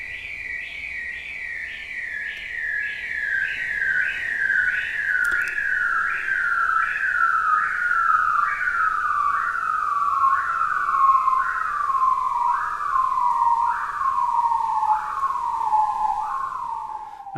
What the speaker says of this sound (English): listen for the voice of the diving seal that makes these voices deep underwater